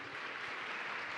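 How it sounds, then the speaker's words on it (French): Brief burst of audience applause at a Paris Retail Week keynote, a dense even wash of clapping heard alone, moderately faint. "on peut encore l'applaudir"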